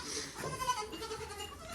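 A baby goat gives a short, fairly faint bleat amid low background sound, heard once partway through.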